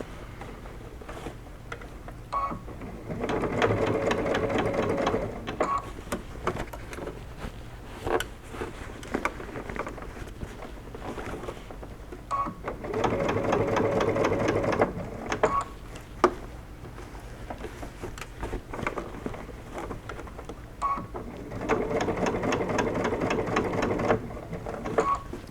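A sewing machine stitches through thick bucket hat fabric in three steady running bursts, with pauses and small clicks between them, close and moderately loud.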